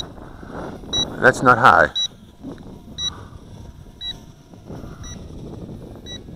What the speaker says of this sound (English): I don't know what that beeping is. It maybe it thinks my battery's weak